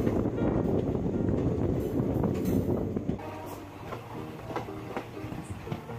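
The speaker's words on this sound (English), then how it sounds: "Now, the train is entering into the area of Tenmalai" A train rolls along the Kollam–Sengottai railway line through the Western Ghats hills near Tenmala, a steady rumbling clatter that eases slightly after a few seconds, with wind noise and no voices.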